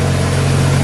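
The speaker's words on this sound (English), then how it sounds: "Engine's only been running total for maybe 10 minutes" Jaguar XK120 engine idling just after its first start following work, a steady, even low rumble with a regular firing pulse, close and continuous.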